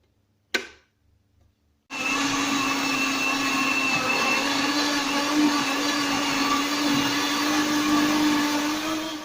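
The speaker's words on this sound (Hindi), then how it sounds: "ये सब हम साथ ही ब्लेंड करेंगे।" An electric kitchen blender whirs loudly and steadily, blending yogurt with green masala for Hariyali chicken; it starts after a brief clunk and near-silence and runs continuously to the end.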